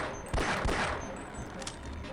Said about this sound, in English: so we'll go ahead and kill them with the pistol